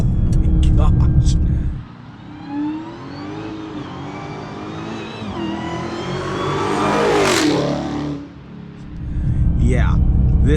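A 2020 Dodge Charger SRT Hellcat Widebody accelerating hard, its supercharged engine whining and rising through the revs with an upshift, loud from inside the cabin, with talking before and after the pull.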